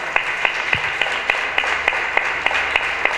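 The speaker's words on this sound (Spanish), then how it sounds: "aplauso a Juliana y a Marino y a todas nosotras." Sparse audience applause at a women's Partido Justicialista gathering, scattered steady claps at a moderate distance with a faint low hum underneath, no voices.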